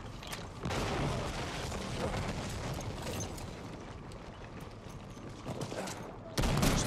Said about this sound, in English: nice tank hit there